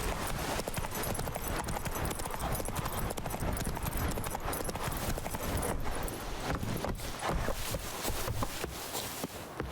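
Roach, Geralt's horse in The Witcher 3: Wild Hunt, gallops at a steady pace, its hooves clip-clopping loudly and continuously over a rough, noisy backdrop of terrain and ambience, with no talking.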